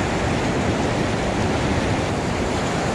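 A small waterfall rushes beside a fishing spot, a steady, dense wash of falling water that stays loud and unbroken throughout.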